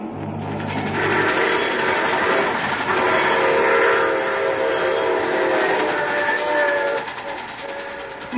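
A train in a radio drama rumbles steadily and loudly for several seconds, with a horn blast at the start and continuous rolling clatter throughout.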